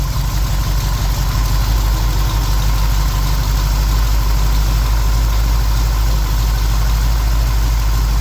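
A car engine fitted with a freshly rebuilt and newly installed Holley carburetor runs at a steady, loud idle, a continuous low rumble close by with faint knocking texture and no talking.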